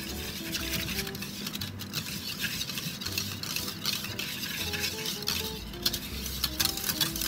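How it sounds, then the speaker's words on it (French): A whisk stirs a chocolate and cream mixture for a chocolate molten cake in a steady, soft, continuous swishing and pattering, close and quiet, without any voices. "Au fouet pour bien homogénéiser tout ça"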